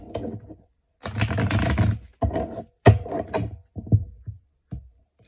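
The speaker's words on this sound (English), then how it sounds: "Okay, we'll do one last shuffle." A tarot deck is shuffled by hand in several short bursts, the riffling cards clattering and flicking close to the ear, with brief silent pauses between the separate shuffles.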